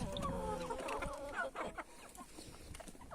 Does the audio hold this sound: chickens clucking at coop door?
yes